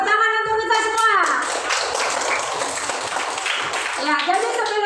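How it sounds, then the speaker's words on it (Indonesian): Clapping from children and a teacher in an elementary school classroom at SDN 2 Perina, a short burst of hand claps mixed with voices, with talk starting and ending around it. "tepuk tangan untuk kita semua"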